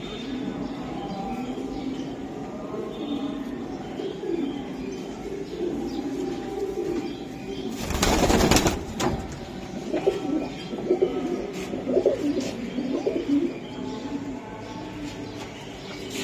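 High-flying Giribaz racing pigeons coo steadily and close by, soft repeated coos under a low, continuous background, with a brief loud rustle or flutter midway.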